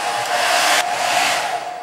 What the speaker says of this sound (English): Dryer, get close to the paper.